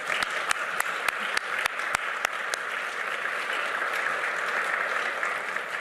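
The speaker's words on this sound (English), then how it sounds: "I think we all owe her a round of applause." An audience applauding a former prime minister: sustained, dense clapping from a large crowd at a club address, with several sharper individual claps near the start, steady and moderately loud throughout.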